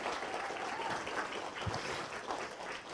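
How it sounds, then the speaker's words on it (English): Brief, fairly quiet applause from a crowd at a welcoming ceremony, honoring the volunteer event staff; a soft, even wash of clapping with a slight muffled, wind-like quality. "I'd like just a quick round of applause to all of our staff that continue to do this event"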